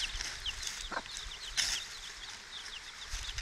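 A mother hen clucks softly to her small chicks outdoors, low repeated clucks under a steady wash of high, thin peeping from the brood, close and fairly quiet.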